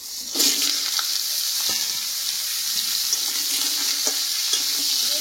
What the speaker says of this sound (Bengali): এবার কেটে ধুয়ে রাখা আলু আর পেঁপেটা দিয়ে দেবো।